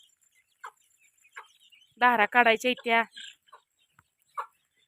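A hen clucks and squawks loudly in a short burst close by, with a few faint quieter sounds and a brief spoken phrase around it.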